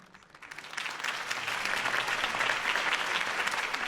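Dense crowd applause after a city campaign speech for Harvey Dent, rising quickly from a quiet start into a steady, loud wash of many hands clapping that continues to the end.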